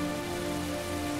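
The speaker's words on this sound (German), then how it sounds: "Der Regen wird auch nicht besser." Steady rain pours down in the Heavy Rain video game, a dense, even hiss of drops on surfaces with a faint tonal music bed beneath, continuous and fairly loud throughout without any voices.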